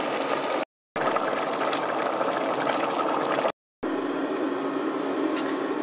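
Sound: pouring seasoned stock over vegetables for fish stew

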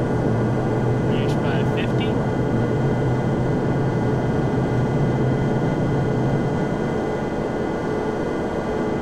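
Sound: aircraft engine during takeoff roll in a flight simulator video game

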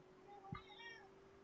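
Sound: cat meowing

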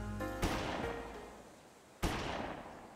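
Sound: gunshot in a video game

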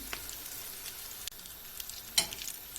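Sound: potato patties frying in oil

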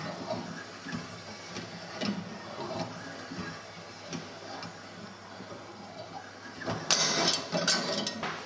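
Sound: winding a tube into a coil for an HHO generator

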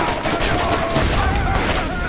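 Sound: gunfire from a powerful gun in the video game Borderlands

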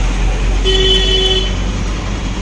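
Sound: heavy road traffic with car horns

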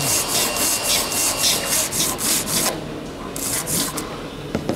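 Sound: filing feathered edges on Lancaster bomber restoration

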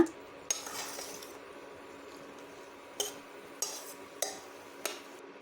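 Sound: stirring and frying garam masala in a pan

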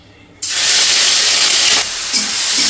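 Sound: mushrooms sizzling as they are added to hot oil

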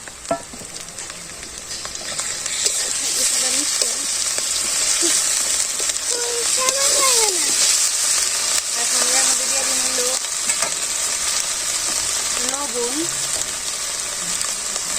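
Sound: onion, garlic and ginger paste frying in oil

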